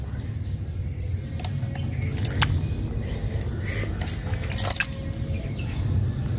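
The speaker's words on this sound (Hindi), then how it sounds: "अब मैं इन्हें पानी देता हूं।" Water is poured onto seeds in cocopeat in a rooftop garden, giving a steady close trickle with soft squishy splashes and scattered drips throughout.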